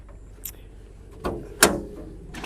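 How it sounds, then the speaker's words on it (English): Cab door of a Prentice log loader opening: a few separate clunks and a sharp latch click, close to the microphone, with no one talking. "We can open the door."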